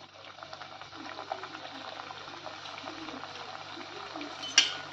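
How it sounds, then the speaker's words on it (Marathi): Masala samosas deep-frying in hot oil over a medium gas flame: a steady bubbling sizzle with faint crackling, a light metallic clink of a utensil near the end. "आपलं तेल तापलेलं आहे, आता आपण त्यात समोसे टाकून घेऊया आणि मीडियम गॅसवरच तळायचे आहेत आपल्याला समोसे"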